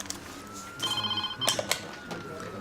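A telephone at a health centre rings in short bursts, its electronic trilling fairly close against quiet room sound.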